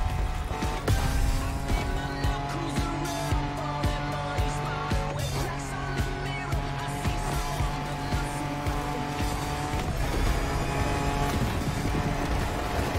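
A car drives off-road in the racing video game The Crew Motorfest, its engine droning and revving loudly throughout, with scattered tire skids and rattling bumps.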